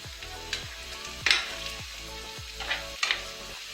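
Shrimp, mushrooms, tomatoes and pineapple sizzle in a pan as they are stirred, with a bright crackling hiss broken by a rhythmic series of spatula scrapes and knocks up close.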